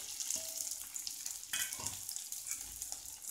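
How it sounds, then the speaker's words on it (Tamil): Green chili, onion, garlic and ginger sizzle and fry steadily in a pan, a soft hissing crackle with a few scraping stirs, quiet and close with no talking. "இது இப்போ எல்லாத்தையும் வதக்குவோம்"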